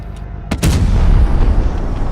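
A single loud, close cannon blast from an FV215b tank gun in a tank battle video game, a sharp crack followed by a heavy rumbling boom that lingers.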